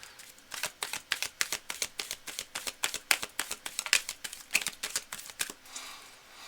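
A tarot card deck being shuffled by hand: rapid, crisp, evenly spaced riffling clicks in a quick rhythmic run, close up and fairly quiet, with no talk.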